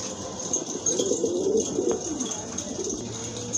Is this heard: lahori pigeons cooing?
yes